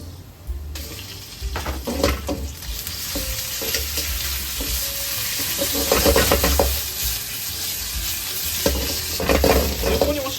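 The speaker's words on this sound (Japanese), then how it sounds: "豚肉ですね、入れていきます。" Loud, continuous sizzling of pork frying in a pan over high heat, with repeated stirring scrapes and clatter throughout, close up.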